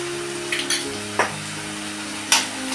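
Onion and tomato with turmeric stir-frying in a pan for paneer chutney, a low steady sizzle broken by a few sharp scrapes and knocks of a spoon, close by.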